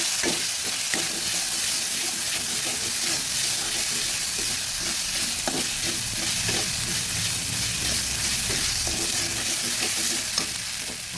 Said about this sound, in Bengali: দিয়ে দেবো রসুন পেস্ট। ভালোভাবে ভেজে নিচ্ছি।